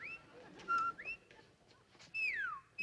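A person whistles a few short, sliding notes, rising and falling, with quiet pauses between, alone against faint background.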